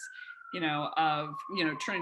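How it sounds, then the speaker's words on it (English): An emergency vehicle siren wails steadily in the background with a sustained rising and falling tone, while a person talks over it in the foreground. "sorry for the siren in the background"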